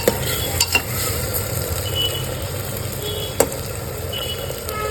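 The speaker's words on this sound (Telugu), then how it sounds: "ముందుగా వీటన్నిటిని ఆయిల్లో కొంచెం ఫ్రై అవ్వనివ్వాలి." Chopped green chillies and aromatics fry in oil with a steady, close sizzle and occasional scrapes of stirring against the pan.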